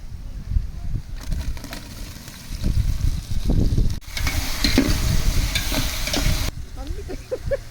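Tomatoes and onions fry and get stirred in a pan for a Christmas biryani with cardamom, a steady close sizzle and scraping that swells in the middle and fades near the end.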